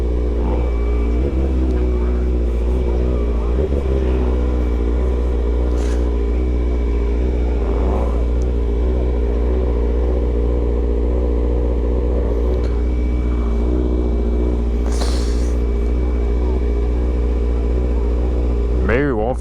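Steady low engine rumble of a car idling and creeping along while parking at an evening car meet near motorbikes, continuous and close, with a brief rev near the end and voices in the background.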